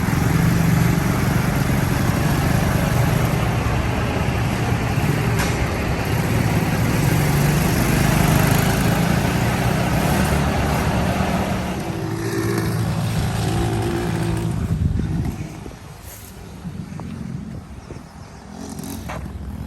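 A Tao Tao 110cc Chinese motorcycle with a freshly replaced carburetor idles steadily up close for most of the stretch, its loud low engine drone dropping and softening near the end.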